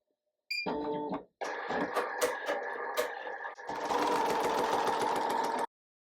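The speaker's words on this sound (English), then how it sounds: "Now the machine that I'm using is a Smartstitch Embroidery machine." A Smartstitch 12-needle embroidery machine starts with a beep, then runs a placement stitch with a rapid mechanical chatter that grows denser and louder before stopping abruptly, nearby and without voices.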